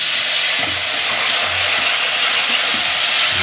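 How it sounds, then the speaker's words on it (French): Hot pan deglazed with Pineau des Charentes while cooking filet mignon, a loud close continuous sizzle and steam hiss with faint stirring scrapes. "On déglace? Un petit peu."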